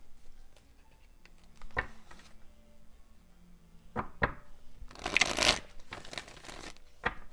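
Tarot cards are handled and shuffled, with scattered soft taps and a brief riffling burst of papery crackle near the end, quiet and close.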